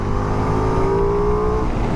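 A 2023 Ducati Multistrada V4 Rally motorcycle engine rolls on throttle, its smooth V4 drone rising steadily and loud for a couple of seconds before easing off at the end.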